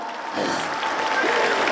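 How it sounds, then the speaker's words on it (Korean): A crowd at an outdoor festival stage show bursts into applause. It is a brief, dense, loud burst with a faint murmur of voices mixed in. "여러분들 큰 박수 한 번 보내도록 하겠습니다."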